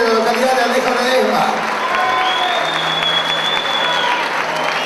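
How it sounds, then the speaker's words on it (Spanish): Loud sustained applause from an audience honoring the town mayor at a tribute ceremony, dense clapping with some crowd voices and cheering mixed in throughout. "El aplauso para Oscar Reñito, el intendente."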